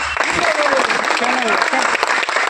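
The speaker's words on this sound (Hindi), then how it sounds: "जोरदार तालियों के साथ" Loud, sustained applause from a crowd fills the whole clip, dense and steady, with faint voices and a few tonal sounds underneath.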